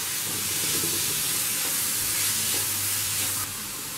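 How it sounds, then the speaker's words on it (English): Chopped tomatoes being stirred into sizzling masala for a Kerala chicken curry, giving a steady, close hiss and sizzle that fills the whole clip with no talk. "Give this a nice mix."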